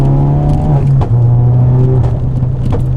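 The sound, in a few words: tuned Ford Focus RS engine and exhaust on throttle lift-off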